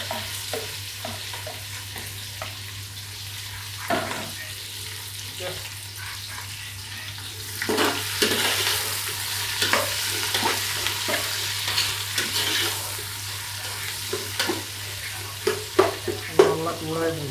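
Onions for chicken biryani frying in a hot pan while being stirred, a soft sizzle under repeated scraping and clattering strokes of the spoon that grow busier toward the end, with a little speech.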